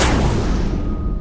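A heavy dull thump like a sack slammed onto a road, a single booming impact that rings out and fades over about a second, close and loud.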